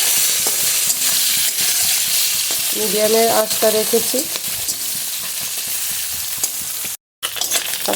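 Steady sizzling of tengra fish frying in a pan, close and loud throughout, with a brief stir and a short voice remark over it.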